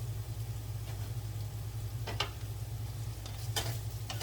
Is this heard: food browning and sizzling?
yes